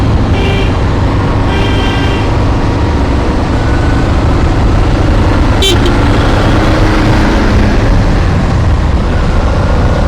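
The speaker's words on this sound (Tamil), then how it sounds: "சரியான டிராஃபிக்ங்க" Heavy road traffic near Chennai heard from a motorbike on a solo road trip: loud, constant engine and wind roar with several short car horn toots, one sharp horn blast standing out midway.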